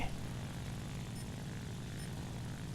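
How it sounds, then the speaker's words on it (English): A propeller-driven aircraft in a historical battle video game drones steadily overhead, a continuous low rumbling hum that holds even in level for a few seconds with no talk over it. "I hear a plane."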